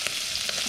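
Green chillies and onion sizzle in hot oil in a pan for egg biryani, a steady close frying hiss with a couple of soft stirring scrapes, no voices.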